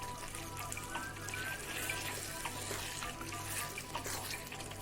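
Brinjal (aubergine) pieces cooking in a pan for a hot, sweet, tangy Goan pickle produce a soft, continuous frying hiss, faint and even throughout with light crackles.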